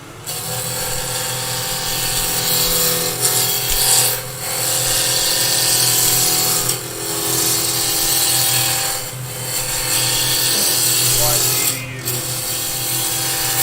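A wood lathe spins while a tool cuts a coloured, textured box, giving a steady loud whirring broken by a few brief pauses and shifts in cutting tone, with some speech in places.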